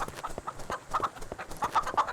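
A farm chicken in the video game Shotgun Farmers clucks in a quick, steady series of short calls, fairly soft and clear with no talking over it.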